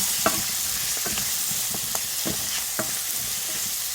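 Spices stirred in a frying pan, a utensil scraping and tapping in an irregular rhythm over a steady sizzle, close up with no talk.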